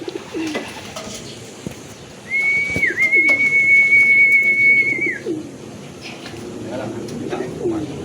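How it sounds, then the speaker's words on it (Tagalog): A racing pigeon arrives at the loft as a bright, sustained whistle-like tone holds for about three seconds over outdoor background noise, with people talking nearby. "That's our second bird."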